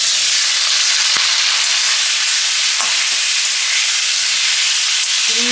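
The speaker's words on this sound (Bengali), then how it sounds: "সেই ফাঁকে চিংড়ি মাছগুলো আমি একটু ভেজে নেবো।" Prawns frying in hot oil in a home kitchen, a loud, dense, continuous sizzle and hiss close up, with a few faint clicks of stirring.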